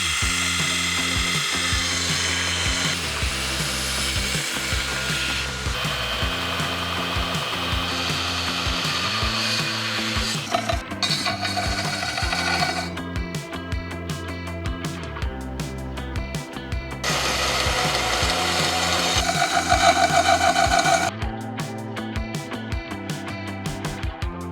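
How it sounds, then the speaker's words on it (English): Steel tang of a forged cleaver being trimmed down with a power tool, a loud continuous grinding, rasping whine that holds steady for the whole stretch, with brief shifts in pitch and intensity as the cut progresses and no voices. "now I have to go in and trim this tang down just a bit so that it will fit in the handle"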